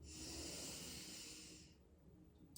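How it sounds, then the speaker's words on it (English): During a neck and shoulder release stretch, a person draws in one slow, deep breath. The close, airy inhale lasts almost two seconds, then fades into quiet, with no talking. "breathing all the way in and out"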